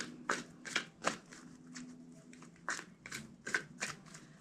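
A deck of cards being shuffled in quick riffling bursts, several in a row with short pauses, close and fairly quiet.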